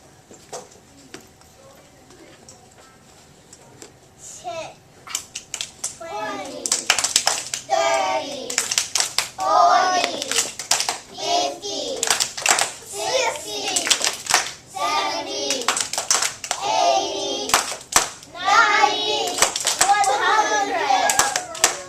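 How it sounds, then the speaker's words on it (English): Children in a first grade classroom clap in steady rhythmic bursts during a counting routine, the claps repeating in regular pairs alongside spoken counting, following a quieter opening moment. "come lead us in another form of clapping at the front."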